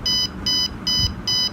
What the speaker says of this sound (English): it will activate the buzzer and the buzzer will give beep beep sound